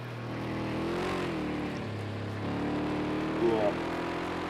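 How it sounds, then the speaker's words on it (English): A race car engine during an endurance series session, droning steadily with rising and falling pitch as it revs, then briefly revving higher near the end. "You could hear the engine big rev."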